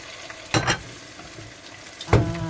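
Garlic and onion fry in a pan with a low, steady sizzle, broken by two short scraping stirs of a utensil, close and quiet.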